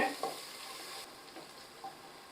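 Onions sautéing until golden brown for seeraga samba chicken biryani, a soft frying sizzle with a few light stirring taps, fading slightly after the first second.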